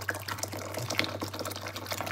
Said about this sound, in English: You've always got to empty out the water, and I always empty it into the jug here